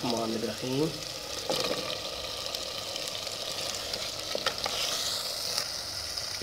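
Potato pieces sizzle steadily in hot spiced masala in a pan, with occasional scraping stirs and a brief voice at the start, the frying constant and close.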